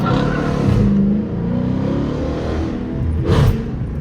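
A Dodge Challenger R/T pulls hard under heavy acceleration as it breaks traction, its engine roaring loud and close in one sustained surge that swells again near the end, with no voices.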